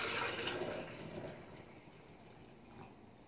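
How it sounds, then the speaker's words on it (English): Hot water pours into a stainless steel double-wall French press, a close, steady liquid rush that is loudest at first and eases into a quieter trickle. "we pour some hot water already in there"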